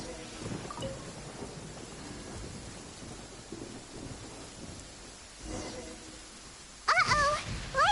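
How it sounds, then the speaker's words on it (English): Thunderstorm in Genshin Impact, steady rain hissing throughout with low rumbling thunder rolling in the background, then a sharp, loud lightning crack near the end; brief voice sounds under the storm. "Uh-oh! Lightning storm!"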